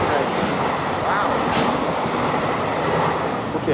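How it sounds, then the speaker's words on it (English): A loud, steady rumbling roar of a passing train, close by and continuous, with a faint high squeal partway through. "freight train"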